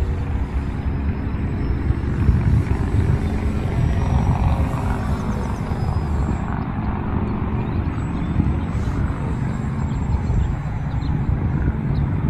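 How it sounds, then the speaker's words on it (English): Steady droning hum of a Great Planes Electrifly SU-31 electric RC plane's motor in flight, continuous and fairly loud, with broadband rushing noise and a faint high whine, no voices. "Still trying to get used to this plane."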